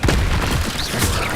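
The Incendio fire spell cast in Hogwarts Legacy, a loud, close, continuous booming whoosh of flame that fills the whole moment without a break.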